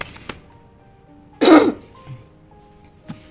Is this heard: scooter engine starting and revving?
no